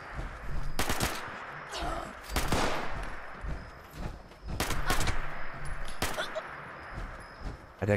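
Weapon fire in the Fallout video game, several sharp loud bursts of gunshots spaced across the stretch with quieter game ambience between them.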